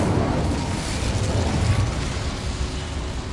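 An Incendio fire spell cast in Hogwarts Legacy gives a sustained roaring whoosh of flame, dense and fairly loud for the whole stretch with no clear separate hits.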